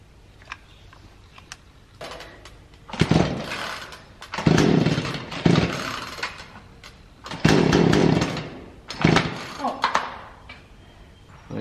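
A chainsaw being worked on by a father and son, with bursts of engine revving that rise and fall in several loud pulses over a few seconds, separated by quieter idle gaps.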